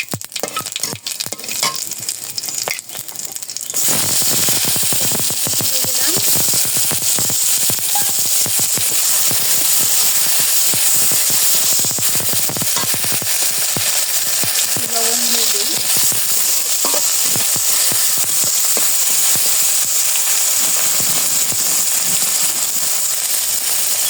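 Dried chilli, cinnamon, cardamom and cumin hit hot oil and break into a loud, steady sizzle that fills the pan from a few seconds in, with scattered crackles and pops throughout.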